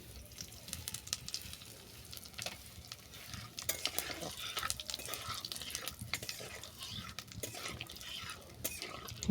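Asafoetida sizzles and crackles steadily in hot oil in a pan while a utensil scrapes and stirs, with no talking.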